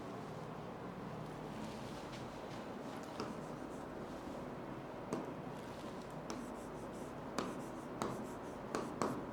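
Marker or chalk writing on a board during an income tax lesson, a run of faint scratchy strokes and small taps that grow more frequent toward the end, over quiet room noise with no talking.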